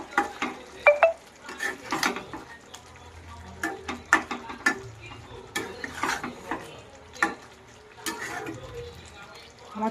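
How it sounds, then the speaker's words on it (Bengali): Chicken kosha being stirred with a pinch of garam masala in a pan: repeated scraping and clattering strokes of a spoon against the metal, with a soft sizzle underneath and a voice murmuring at times. "একটু নাড়াচাড়া করে নেবো আমি এটা।"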